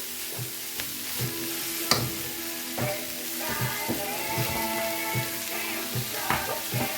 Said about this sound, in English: we're going to stop the frying now